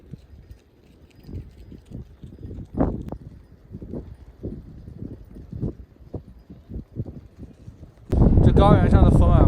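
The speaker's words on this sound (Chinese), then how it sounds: "绵羊大军过来了" A large flock of roughly two hundred sheep passing along a windy plateau road in the Tibetan highlands, their hooves making a light, irregular, pattering clatter up close, then strong wind gusts and a voice toward the end.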